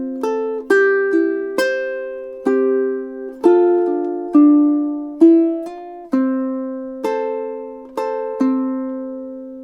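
Ukulele playing a phrase of a song from Spirited Away, clean plucked notes and chords at a slow even tempo, close and clear with nothing else heard.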